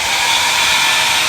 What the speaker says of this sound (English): highest heat setting you can on your hair dryer